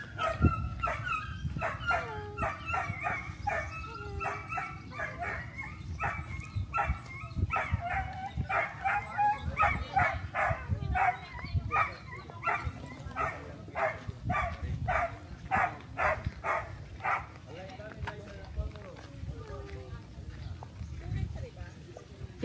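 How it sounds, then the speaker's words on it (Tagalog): Dogs bark in a rapid, repeated series of sharp barks on a street in Tawi-Tawi. Faint voices and outdoor bustle sit underneath. "Nice, may mga dogs."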